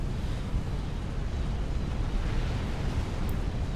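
Naval force bombarding in the strategy game Supreme Commander: Forged Alliance, heard as a steady, dense low rumble of continuous distant explosions and artillery that never lets up.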